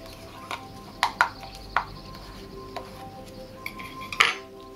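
Glue paste being mixed with a few drops of water for aquascaping, heard as a spoon or tool scraping and clinking against a bowl in several sharp, uneven knocks, close and quiet between hits.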